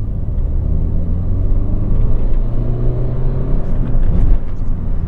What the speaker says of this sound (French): je vais vous faire un petit test d'accélération